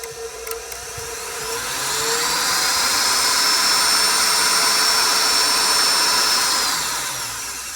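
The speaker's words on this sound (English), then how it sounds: "With it disassembled, I did turn the motor on just to make sure" A 6-quart KitchenAid stand mixer motor running with its gears removed, a steady high whine and airy whoosh that ramps up, holds evenly, then winds down; close, fairly loud, alone without voices.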